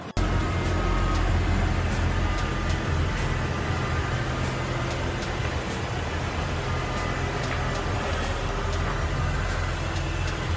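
Mercedes E350 car running as it is driven out, a steady low engine rumble and road noise with faint periodic ticks throughout, no talk.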